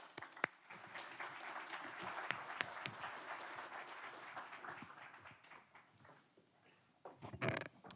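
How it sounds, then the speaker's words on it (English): An audience at an event applauds a dean, a steady wash of many hands clapping at moderate distance that gradually thins out and fades, followed by a short burst of closer sound at the end. "Please, a round of applause for Dean Taylor."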